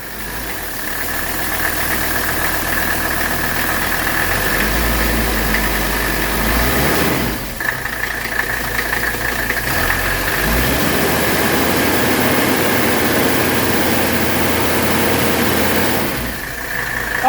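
A 1985 Mercedes 300CD diesel engine with a newly fitted primer pump runs steadily at idle, close and loud, with a constant clattery diesel rumble throughout and no speech.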